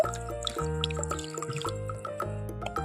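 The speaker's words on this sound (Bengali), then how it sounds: "চালটাকে একটু জল দিয়ে পরিষ্কার করে নেব" Water trickles and drips while a spoonful of Gobindobhog rice is rinsed in a small container, giving a short burst of close, irregular splashing and dribbling.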